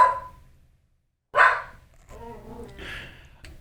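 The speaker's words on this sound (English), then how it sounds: "My dog is announcing the UPS man." A dog barks at a delivery driver at the door: a short burst near the start, then a louder bark after a brief silence, trailing into whiny, whimpering yelps, with no talk over it.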